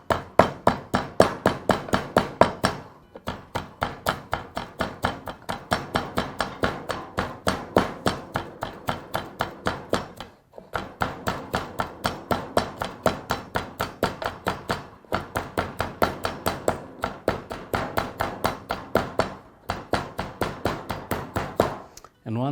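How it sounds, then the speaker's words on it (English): Garlic and salt being pounded in a pestle and mortar, a fast, steady run of sharp thuds repeated dozens of times in bursts separated by brief pauses, loud and close throughout. "begin the process by adding some garlic to a pestle and mortar. Add a bit of salt."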